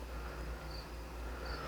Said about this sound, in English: listening to the crickets, and maybe you can hear a little bit of the rain